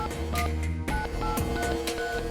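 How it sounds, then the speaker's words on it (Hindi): Telephone keypad tones beep in a quick series as a number is dialed in a tense crime-drama scene, sounding over a dense, steady music-like background. "यही नंबर मिलाया था ना तूने?"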